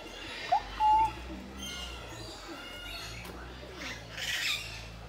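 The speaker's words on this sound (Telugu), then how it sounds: "ఇప్పుడు ఈ స్పాట్లో మీకు క్లోజ్ టు ఒక 100 ప్యారెట్స్ ఒకటి దగ్గర కనిపిస్తాయి" Parrots squawk at a bird garden on Parrot Mountain in the Smoky Mountains: a couple of sharp, brief calls near the start, then scattered fainter squawks and chirps over steady background noise.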